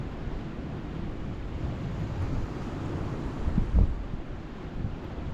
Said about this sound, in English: The wind's picking up a bit as well